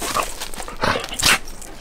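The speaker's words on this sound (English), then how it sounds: "And here's the two dogs, which are Monty's getting upset" Two dogs whimper eagerly for a bone inside an RV, giving a few short, close whines and yips in quick succession.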